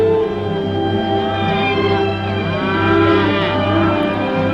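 Cattle low loudly and steadily in a 1950 western, a continuous deep moo with rising and falling pitch that fills the whole stretch, heard up close with no talking.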